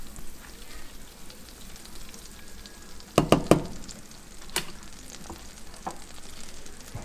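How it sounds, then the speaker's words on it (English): Butter melts in a pan for creamy chicken pasta, a soft steady sizzle with a brief cluster of sharp spoon clinks against the pan midway and a single later tap. "All right, so our butter is melting"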